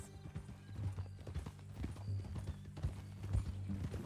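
Horse hooves clip-clopping at a steady walking rhythm in Red Dead Redemption 2, fairly faint and even, with a soft whinny-like sound mixed in.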